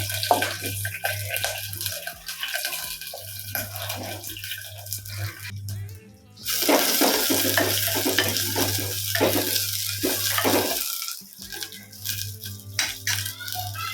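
Onions and green chilies hit hot oil in a pot, bursting into a loud sizzle after a few seconds, with stirring scrapes and clinks of a spoon, the frying settling to a steady crackle.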